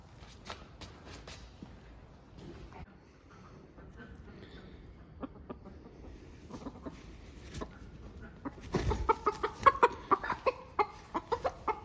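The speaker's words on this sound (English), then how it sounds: "Let's go see if we can catch some chickens." Chickens on a smallholding clucking and squawking nearby, growing louder and busier toward the end, with scattered footsteps and rustling before.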